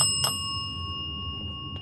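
Bell alarm on a ghost hunting meter sounds as a steady electronic tone with faint ringing, accompanied by a couple of brief louder bell-like hits near the start and end.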